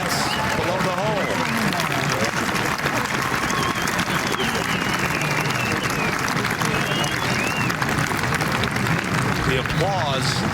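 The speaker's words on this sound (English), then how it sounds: "The applause for a major champion already" A golf gallery applauds steadily as a major champion approaches the green in the final round of the 2016 Evian Championship, a broad sustained wash of clapping with crowd murmur and commentary voices throughout.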